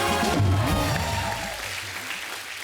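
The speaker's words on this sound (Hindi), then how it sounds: "जोरदार तालियां।" Loud studio audience applause on a comedy talk show set, a dense wash of clapping that swells early and then gradually thins out, with no voices over it.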